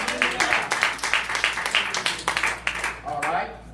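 Church congregation clapping hands at a worship service, a run of sharp, rhythmic, evenly spaced claps at close range that thin out toward the end.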